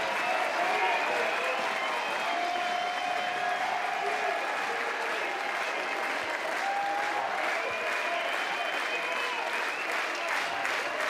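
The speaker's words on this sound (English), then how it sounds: "Crowd to its feet in Chapel Hill." A college baseball crowd in Chapel Hill rises for North Carolina against VCU, applauding and cheering in a loud, sustained roar with whistles and shouts running throughout the stadium.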